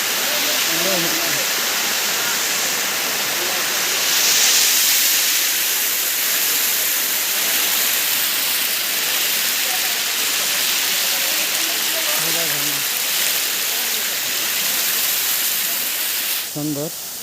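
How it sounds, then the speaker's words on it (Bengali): Large Shatadhara waterfall with slightly muddy water, a loud steady broadband roar of falling water filling the scene throughout, with a few faint voices briefly audible beneath it. "অনেক বড় ঝর্ণা, অনেক পাহাড় পাড়ি দিয়ে কষ্ট সহ্য করে এখানে এসেছি এই শতধারা ঝর্ণা দেখার"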